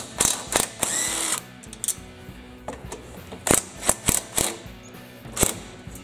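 Close, dry ratchet wrench clicks in short bursts and single sharp pulls while a manifold is taken off a Briggs & Stratton V-Twin Intek engine that runs badly, with no talk.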